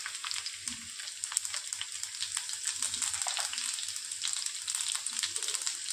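Garlic dropped into hot oil right after mustard seeds have crackled in a wok on a gas stove, giving a steady, bright sizzle with scattered sharp pops and crackles throughout, close and fairly loud.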